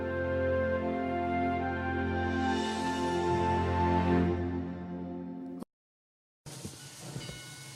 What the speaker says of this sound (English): The train arrived, and with it,